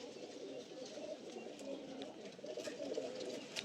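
Giribaj pigeons coo softly and continuously nearby, a low, steady murmur of calls with faint chirps above it.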